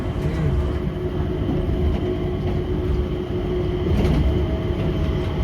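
A train rumbles past at close range with a steady, heavy roar and rhythmic clatter from the wheels on the rails.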